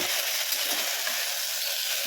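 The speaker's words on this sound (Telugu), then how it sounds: "ఇలా ముక్కలను బాగా ఆయిల్లో పోపులో మగ్గనివ్వాలి" Steady crackling sizzle of food frying in hot oil, close and continuous with no voices.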